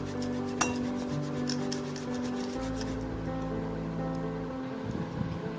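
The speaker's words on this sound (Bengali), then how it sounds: "এইভাবে আমি 4টে আলুকে গ্রেট করে নেব।" Four boiled potatoes rubbed against a kitchen grater, a steady close rasping scrape running throughout with a few sharper knocks, no talking.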